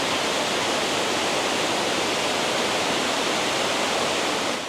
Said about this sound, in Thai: อันนี้คือน้ำตกนะครับ